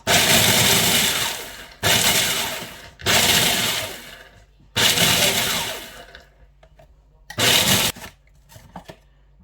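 A kitchen blender pulsing chocolate ball ingredients for a no-bake treat, whirring loudly in five or six short bursts separated by brief pauses, with a little clatter between pulses.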